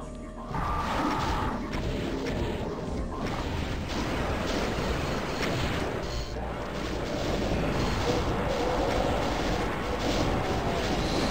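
Rapid chaingunner gunfire in Doom II, dense crashing shots and impacts running continuously and loudly throughout with no talk.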